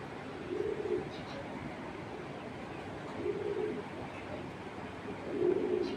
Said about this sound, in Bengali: আচ্ছা কাছে থেকে দেখে কবুতরটা